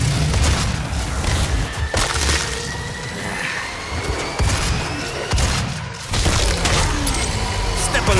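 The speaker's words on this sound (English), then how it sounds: "The shotgun right to the face?" Shotgun blasts against berserker demons in Doom on hard mode, several sharp loud shots spaced a second or two apart amid crashing game noise, with voices talking throughout.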